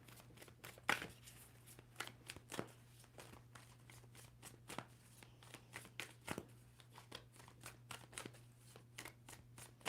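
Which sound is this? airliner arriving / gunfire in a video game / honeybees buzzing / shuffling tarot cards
shuffling tarot cards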